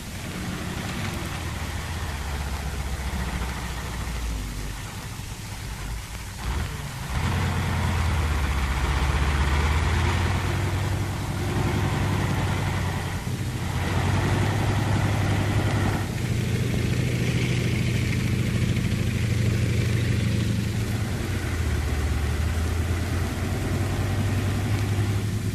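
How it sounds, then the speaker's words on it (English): A 1944 WWII engineer armored vehicle, buttoned up with a demolition crew and a cargo of explosives, idles with a steady, loud low engine rumble that rises slightly partway through and continues without any talk. "there she is, the engineer armored vehicle, with demolition crew and cargo of explosives buttoned up for frontline work"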